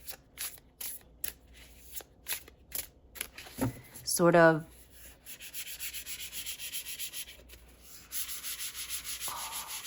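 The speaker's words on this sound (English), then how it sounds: "I literally couldn't stop shuffling it because of the sound it makes" A tarot deck being shuffled gives repeated papery swishing and riffling strokes, close and crisp, in bursts with brief pauses. A voice speaks a couple of words early on.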